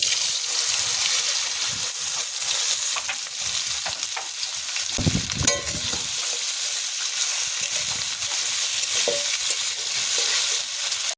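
Potatoes fry in hot oil with a steady, dense sizzle and crackle that runs throughout, with a brief stirring scrape and bubbling burst in the middle.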